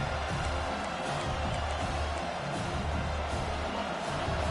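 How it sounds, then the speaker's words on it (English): A simulated stadium crowd in a college football video game keeps up a loud, constant roar and cheering throughout, with a low rumble underneath and no distinct speech. "This crowd trying to make life miserable for this offense."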